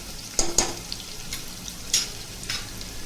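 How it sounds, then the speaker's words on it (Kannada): Carrots fry in a pan with onions for paneer peas pulao: a soft steady sizzle punctuated by a few sharp clinks and scrapes of a spoon against the pan, close and unaccompanied by talk. "ಈಗ ಇದಕ್ಕೆ ನಾನು ಕ್ಯಾರೆಟ್ ಸೇರಿಸ್ಕೊತಾ ಇದ್ದೀನಿ. ಸ್ವಲ್ಪ ಫ್ರೈ ಆಗಬೇಕಿದು."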